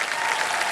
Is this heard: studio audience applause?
yes